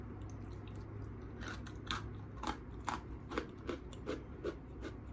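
A corn-flavored rice scone with a light, crumbly texture is bitten and chewed close to the mic, a series of soft crunchy bites repeating about every half second over a low background hum.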